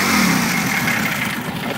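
A VW stroker engine revs up close and loud on a test run, the note rising and holding steady with slight fluctuation, no talking over it.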